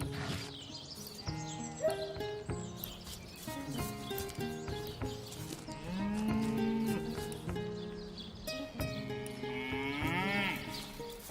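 A cow moos in the Divinity: Original Sin Enhanced Edition video game. The drawn-out low call stands out midway through a busy, tonal game soundscape at moderate level.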